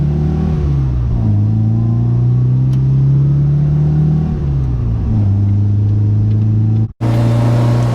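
A 1968 MGB roadster engine revs up with a rough, throaty rumble, rising and falling in pitch through several throttle blips, loud and close.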